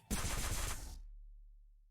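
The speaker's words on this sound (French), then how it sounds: "Le premier coup de feu se fait entendre." A single loud gunshot burst from a video game with robot enemies, sharp onset, about a second of dense crackle, then a low rumbling tail fading out, no talk.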